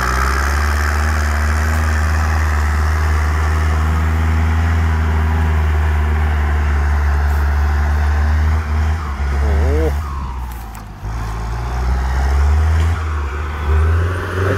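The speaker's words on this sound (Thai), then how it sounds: "วันนี้มาดูรถไถคูโบต้า" A turbo-modified Kubota M6040 tractor fitted with an air-conditioned cab idles with a steady, deep engine drone, heard close with a brief rev around the middle while someone talks over it.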